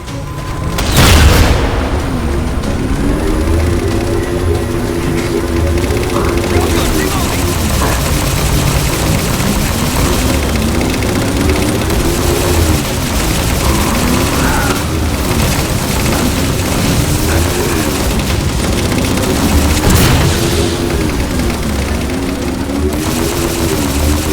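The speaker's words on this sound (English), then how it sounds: "phantoms for the railgun to shoot down" Halo 4 gameplay on PC, with a railgun firing on Phantom dropships amid continuous loud battle noise: booming blasts, engine roar and gunfire bursts throughout.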